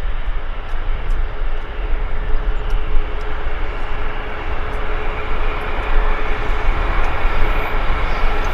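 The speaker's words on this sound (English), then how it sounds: "A beautiful ballet of jets" Jet airliners at Vancouver Airport beside the sea, a steady broad engine roar holding at loud, constant level throughout without a break.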